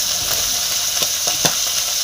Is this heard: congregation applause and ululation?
no